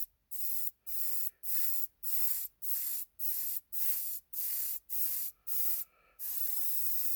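A Selphy airbrush sprays in about ten short, even hissing bursts with brief gaps between them, then one longer continuous spray, close and steady.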